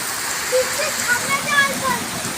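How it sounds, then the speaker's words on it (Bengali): Heavy rain pours into a flooded courtyard, a dense, loud, steady wash of falling water, with a faint voice briefly heard beneath it. "এত বৃষ্টি হচ্ছে।"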